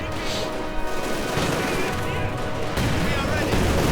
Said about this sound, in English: Lots of machine gun fire now.